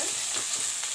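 Ginger garlic paste fries in a pan with a dense, close sizzling hiss that stays steady for a brief moment before cutting off abruptly.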